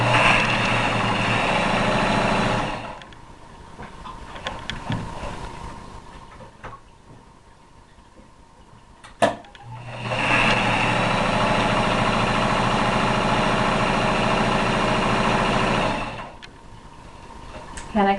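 A sewing machine stitches denim around corners in two long, loud, steady motor runs, with a quieter pause between them broken by faint clicks of the fabric being turned.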